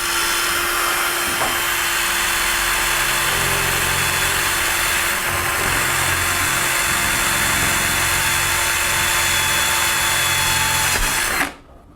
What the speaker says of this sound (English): drill a hole through the front wall of the pouch